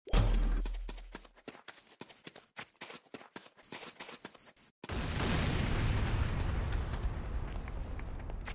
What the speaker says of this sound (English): C4 is set! Fire in the hole!